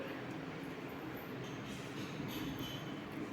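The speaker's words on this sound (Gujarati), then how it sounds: "ઢાંકણ બંધ કરીને દાળને ક્રશ કરી લઈશું" A mixer grinder crushing soaked lentils makes a steady, loud whirring grind that holds at one level throughout, a continuous motor roar with no pauses.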